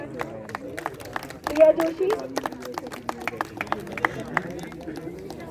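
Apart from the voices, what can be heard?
applause for a badminton prize winner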